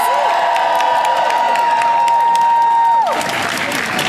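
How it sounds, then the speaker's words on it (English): A crowd at a political rally claps and cheers loudly and continuously, with a steady high ringing tone over it that drops away near the end. "Please give them another round of applause."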